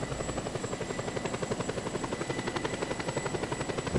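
Steady rhythmic thumping of helicopter rotor blades with a constant engine whine, continuous and fairly close, no talking, in the video game Just Cause.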